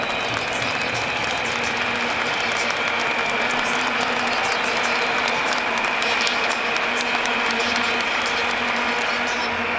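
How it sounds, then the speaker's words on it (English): Stadium crowd applauding steadily at the 2014 African Nations Championship final between Libya and Ghana, a sustained wash of clapping with a constant mechanical hum running underneath throughout. "Now for a moment of applause in honour of the former State President Nelson Mandela"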